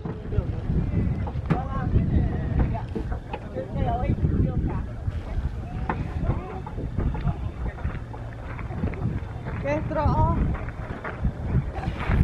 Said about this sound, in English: It is pretty breezy.